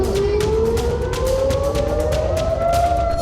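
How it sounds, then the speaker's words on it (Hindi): An air raid siren wails across Israel during a rocket attack, its loud, sustained tone rising slowly and steadily with no voices over it. "बार बार सायरन की आवाज गूंजती है।"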